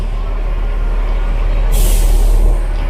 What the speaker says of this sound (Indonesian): Udah tiba di terminal bis Kampung Rambutan.